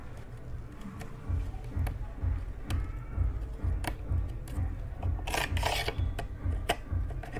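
Rasp scraping wood while a chair is being recaned: steady, rhythmic rasping strokes close by, with scattered sharp ticks and a brighter scrape near the end.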